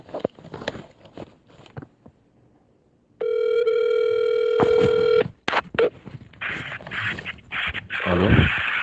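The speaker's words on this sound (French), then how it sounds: "n ye Nampe balima dɔ fɛnɛ wele" A telephone call goes out: several short dialing tones, then a steady ringback tone lasting about two seconds, followed by clicks and the muffled start of a voice on the line.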